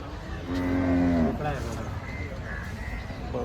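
A bull gives a long, loud, deep moo close by at a busy cattle market in Chalisgaon, followed by shorter lowing and crows cawing amid crowd chatter and people talking.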